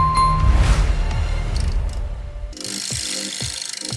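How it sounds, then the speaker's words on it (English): Power tool work on rough cherry wood: a steady grinding, whirring drone for the first half, then a brighter, raspier cutting sound with repeated scraping strokes, close and loud, with no talk. "With the help of a lathe, a rough cherry branch has been transformed into a delicate bowl"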